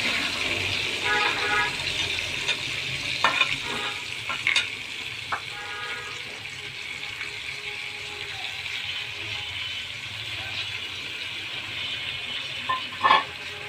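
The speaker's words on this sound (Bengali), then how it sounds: "এখন নাড়া দেওয়া হচ্ছে।" Onion and tomatoes frying in a pan for a fish curry, being stirred; a steady sizzle runs throughout with occasional spoon scrapes and clicks, close, with a voice speaking at times.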